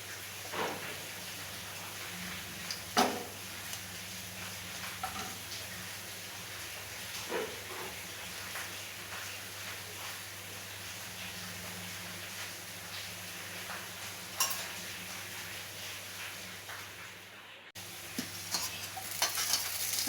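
Tomatoes added to golden onions in a pan for upma, giving a faint, steady sizzle with occasional stirring scrapes and clicks throughout, low and continuous.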